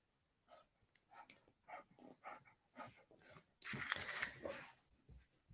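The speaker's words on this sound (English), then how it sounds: "The dog is deciding, as always, the minute I come live, to start going rooting in things he shouldn't be rooting in" A dog pants and roots around among household things, giving quiet intermittent snuffling and breathy bursts, then a louder rustling scuffle near the end, close by in a quiet room.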